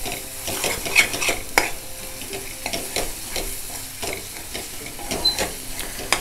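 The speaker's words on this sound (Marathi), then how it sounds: "आता चांगलं हे मसाल्याबरोबर जरा परतून घ्यायचं।" A spatula stirs masala paste frying in hot oil in a pan, with a steady sizzle under repeated scraping strokes and occasional clinks against the metal, fairly close.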